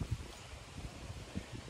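Wind gusts buffet the microphone outdoors in short, soft low thumps over a faint rustling hiss, quiet and brief, with no voices.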